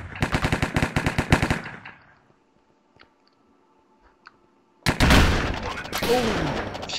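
Gunfire in a Minecraft Hypixel Cops and Crims match: a rapid burst of close shots fades into near silence, then loud, dense game noise and chatter follow.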